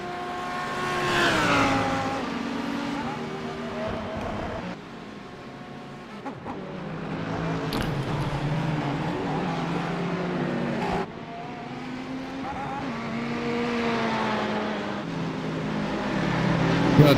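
Race cars in a sim racing video game at Summit Point's Jefferson Grand Prix, engines droning and revving with shifting pitch through gear changes, several cars layered together, loud and continuous with no talk.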